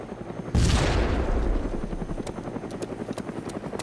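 A helicopter's rotor thumps loudly and rhythmically after a sudden blast, the steady chopping carrying on close by, in the game Arma 2 DayZ Mod.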